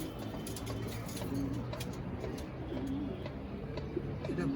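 Caged pigeons, all males, coo in soft overlapping murmurs under a steady hum of birds and background noise, with faint chirps throughout.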